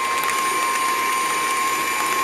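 An electric mixer's beaters churn steadily through cream turning into butter, a continuous dense mechanical whir with a faint whine, loud and close throughout with no voices.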